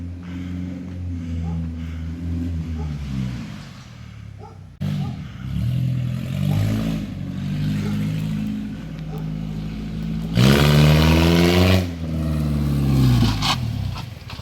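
A cheap, worn Nissan 240SX drift build rumbles at idle and revs up in rising pulls, close and loud, with voices talking over the engine at times.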